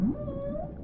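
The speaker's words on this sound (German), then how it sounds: "Der wie ein Wal klingt." An Amazon river dolphin's call in the underwater game Dave the Diver, a single rising then long drawn-out whale-like tone lasting under a second, clear and alone with no talk.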